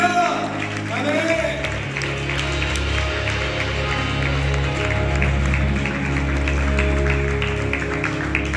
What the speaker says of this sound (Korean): 우리 주님께 한번 박수 올려드리겠습니다